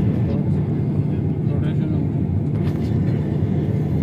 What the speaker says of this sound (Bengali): রানওয়ে শেষ প্রান্তে চলে এসছে এখন টেক অফ করার জন্যে। এখন সে কিক অফ করবে।